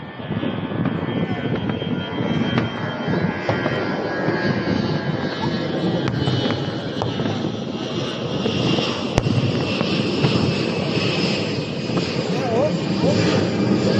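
An airplane drones steadily overhead during a fireworks show, a broad engine roar with occasional sharp pops and crackles, while people talk and exclaim beneath it.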